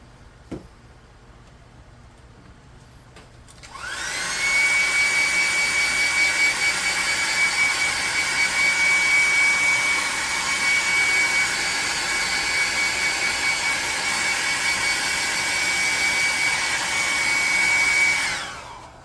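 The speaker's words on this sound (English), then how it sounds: "I'm going to hit him with that hair dryer again" A hair dryer switches on and blows steadily at close range on a handmade tabletop game kraken model, with a loud, continuous whoosh and a thin whine, then cuts off near the end.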